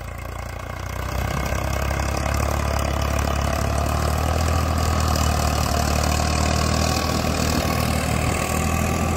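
A Farmtrac 60 tractor engine runs steadily while pulling a tiller, a loud, continuous low diesel drone with a faint knocking texture, starting slightly quieter and holding constant with no talking.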